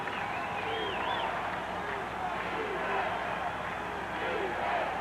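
A football stadium crowd at a 1987 Rams versus Falcons game chants and yells for the defense, a steady roar of many voices that fills the whole stretch, with a play-by-play announcer talking over it.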